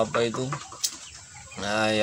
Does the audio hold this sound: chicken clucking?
yes